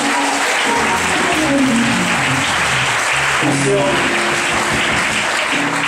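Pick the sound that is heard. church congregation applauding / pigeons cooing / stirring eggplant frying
church congregation applauding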